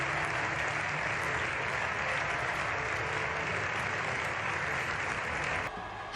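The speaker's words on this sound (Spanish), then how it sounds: "con un estruendoso aplauso" Loud, sustained applause from a large crowd fills the whole stretch as a dense, steady roar of clapping, easing slightly near the end.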